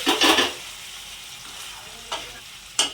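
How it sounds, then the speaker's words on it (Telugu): Hot tempering of dried red chillies and curry leaves crackles and sizzles loudly as moong dal is poured in and stirred, for a pesarapappu dosakaya curry; the burst fades to a softer sizzle with two brief later crackles. "ఇప్పుడు పప్పు అందుట్లో తిరగబోసేసుకోవాలి తిరగమూత కంప్లీట్ అయిపోయింది"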